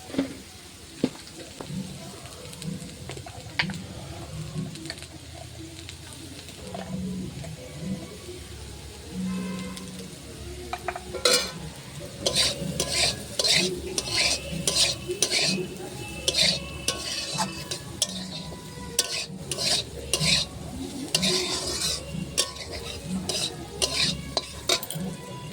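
Potatoes stir-fried in a pan with salt and turmeric, with steady close sizzling and rhythmic metal spatula scraping and clinking against the pan throughout.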